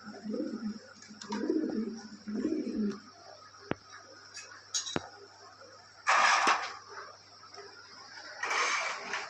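Lahori pigeons give soft, low throaty coos in a few short phrases, with a couple of sharp clicks and brief rustling bursts nearby.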